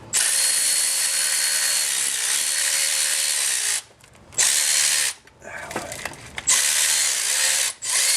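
A ratchet, likely a 1/4-inch drive, works the long top water pump bolt loose on a 1996 Chevrolet Impala SS engine, giving loud, close bursts of rapid clicking broken by short pauses.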